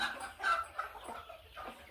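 A native country hen sitting on a clutch of about fifteen eggs gives soft, repeated clucks in short low bursts, close and fairly quiet.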